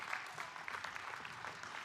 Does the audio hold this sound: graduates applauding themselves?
yes